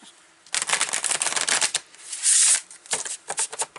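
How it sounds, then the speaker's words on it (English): Tarot cards being riffled and shuffled by hand, then a card drawn from the deck: a close, loud burst of rapid papery flutters and slaps lasting a few seconds, with no talk. "we're going to pull another card from here."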